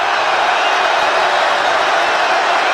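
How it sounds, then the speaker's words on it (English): A loud, dense roar of a football stadium crowd at a Giants at 49ers NFL game, cheering steadily and continuously without any break. "About the loudest this crowd's been tonight."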